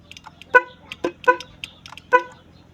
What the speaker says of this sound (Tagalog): Ito guys yung sa stock horn.